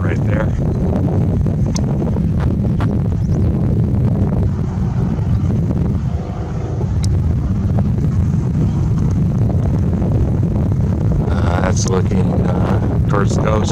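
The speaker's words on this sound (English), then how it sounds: "A bit windy. I'm trying to block my mic here." Heavy wind buffets an outdoor microphone near the coast in a loud, continuous low rumble with gusty surges, while someone talks.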